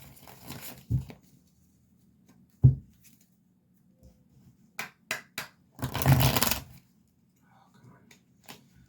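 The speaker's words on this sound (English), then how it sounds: "One more shuffle here." Tarot cards shuffled by hand in short bursts of riffling and tapping, with a louder sustained shuffle near the end, fairly close and alone without talk.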